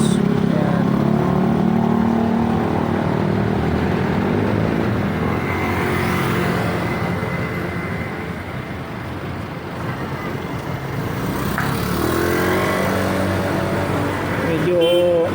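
Busy roadside traffic with cars and motorcycles passing in a steady wash of engine noise, at times revving, with a fairly constant loud level and no clear speech.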